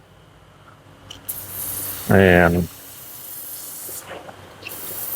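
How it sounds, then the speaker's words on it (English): Freeze Off penetrating aerosol is sprayed onto a snow plow angle cylinder gland, one loud, close hissing burst of about half a second that stands out against a quiet workshop background. "spray around that real quick."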